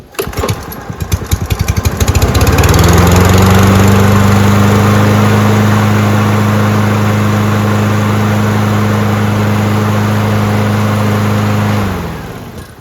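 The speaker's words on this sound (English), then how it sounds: "What's not to like about the Kohler engines?" A Toro Recycler lawn mower's Kohler XT675 engine starts up, sputters briefly, then settles into a loud, steady running drone that holds for several seconds before cutting off.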